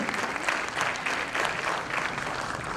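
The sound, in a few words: audience applause welcoming performer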